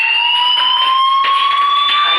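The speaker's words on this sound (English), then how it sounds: "do you hear that fire alarm?" A loud, continuous electronic fire alarm rings in the video game Life Is Strange, a steady piercing tone held throughout with no gaps.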